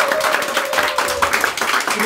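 An audience claps steadily for a scholarship recipient at an awards ceremony, a dense patter of hands over a couple of seconds, with a voice speaking over the applause.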